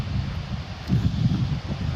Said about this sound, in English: You'll notice it's windy again.